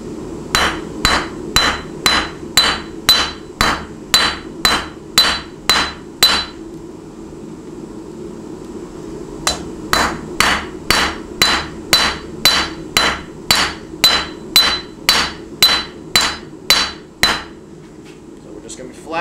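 Rapid hammer forging flattens two sides of knife steel for an integral hidden tang knife, a long run of loud, ringing blows at a steady quick pace that pauses for a few seconds midway, then resumes before stopping.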